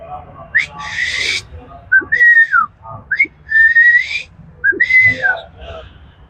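A person whistles a parrot imitation: a few rising and falling shrill whistled calls in short phrases, close and clear.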